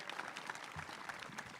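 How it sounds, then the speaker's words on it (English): A school band concert audience claps in a brief, fairly faint burst of applause, steady across the moment with no clear speech over it. "Let's clap for Jake"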